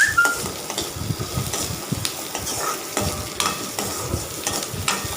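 Masala sizzles and fries in a pan for a mutton gravy, with steady crackling and occasional stirring scrapes close by, no voices.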